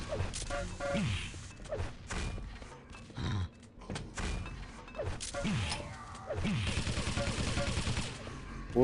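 Rapid SMG gunfire in a Quake capture-the-flag match, repeated bursts of sharp synthetic shots and impacts spread across the clip, with game effects between volleys and no speech.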